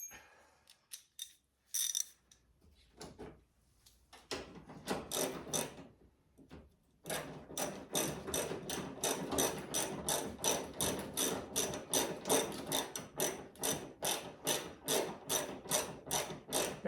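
A ratchet drives a bolt into a 1995 Impala SS headlight: after a few scattered clicks, a steady run of loud, close, rapid ratcheting strokes repeats evenly to the end, with no talk.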